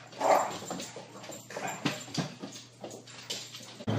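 A tired dog after a day roaming free in the woods whimpers and whines in short, close bursts, with faint soft yips in between and no talk.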